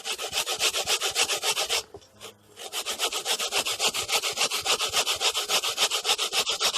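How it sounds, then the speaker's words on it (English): Coconut is grated by hand in fast, loud, rhythmic rasping strokes, close up, with a brief pause partway through before the steady back-and-forth scraping resumes. "I have to grate out the coconut"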